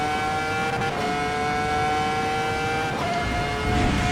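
Ferrari F2004 Formula 1 engine on the Nordschleife in the racing game Assetto Corsa EVO: a loud, sustained high-pitched V10 howl at steady high revs, with brief dips and rises as gears shift.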